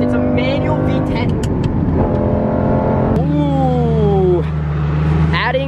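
A manual Lamborghini Gallardo V10 pulls hard in third gear, engine note rising loud and close, dropping on a shift, then climbing again, with excited voices over it.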